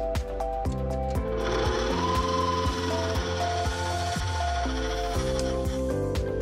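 Steady mechanical whir of an electric mixer blending white chocolate mousse ingredients with added gelatin, loud and continuous with a rhythmic pulsing under it, no voices.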